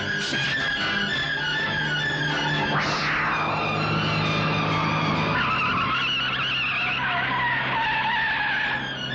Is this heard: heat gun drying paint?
no